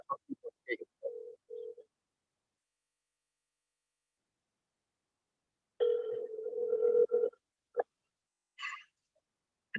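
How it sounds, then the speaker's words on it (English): Ringing on an outgoing telephone call: a few scattered short tones, then a single longer buzzy ring after a silent gap, followed by faint brief chirps. "Let's call one more time."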